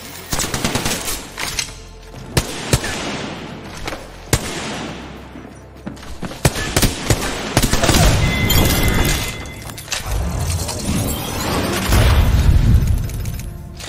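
Gunfire from the G7 gun in a video game, sharp repeated shots scattered across the clip alongside impacts and booms, loud and close, with a voice talking over the action.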